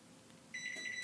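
Craftsman AssureLink garage door opener sounding its warning beep before closing: after a quiet half second, a high electronic beep rings out in a few rapid pulses, close and clear over faint background hum.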